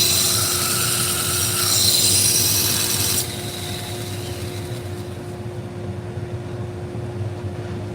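Steady grinding of a knife blade on a powered sharpener at a knife sharpening service, a continuous close rasping hum that softens and thins partway through, with no talking.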